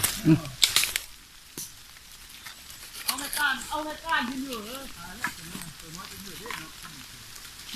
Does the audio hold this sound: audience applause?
no